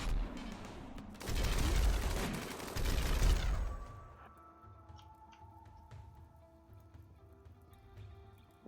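Turrets fire in RimWorld, a loud dense burst of rapid gunfire for a few seconds that then cuts away to quieter tonal game sounds.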